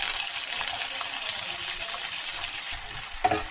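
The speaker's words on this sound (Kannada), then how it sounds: "ಸಣ್ಣದಾಗಿ ಕಟ್ ಮಾಡಿರುವಂತಹ ಈರುಳ್ಳಿ ಹಾಕ್ಕೊಳ್ತಾ ಇದ್ದೀನಿ" Finely chopped onions hit hot oil already spluttering with mustard seeds and cumin for South Indian vegetable sambar, raising a loud, steady frying sizzle that drops a little near the end, with a short clatter and no talk.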